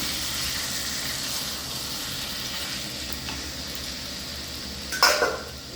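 Chicken and potato curry sizzles steadily in a pan over the heat, a soft continuous frying hiss broken near the end by a brief clatter of a utensil against the pan.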